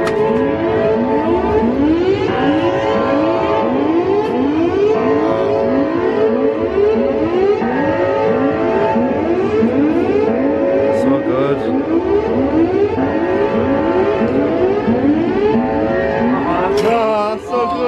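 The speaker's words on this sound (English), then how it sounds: "Got the sirens on." A loud, continuous siren wails up and down in rapid repeating sweeps, steady and close throughout.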